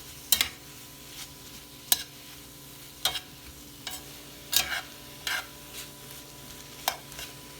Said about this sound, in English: Let's stir that up in there.